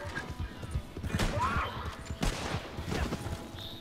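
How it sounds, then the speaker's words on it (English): Gunshots crack out in Red Dead Redemption 2 amid clopping horse hooves and wagon noise, a few sharp reports standing out over a busy, rumbling mix. "You keep shooting me, you're gonna get hit with incendiaries."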